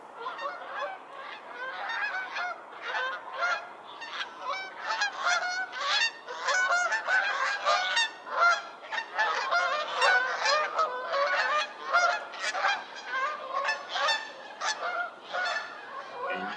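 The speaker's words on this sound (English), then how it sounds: "typical Canada goose sounds, it's that two note" Canada geese (Branta canadensis) honking continuously, a dense overlapping chorus of two-note calls from several birds, loud and steady throughout with no talk.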